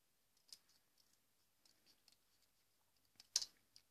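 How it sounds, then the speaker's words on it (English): Scissors snip through paper while paper gnomes are being made: quiet, close, scattered clicks and short cuts, with one sharper snip near the end and no talk. "With the scissors."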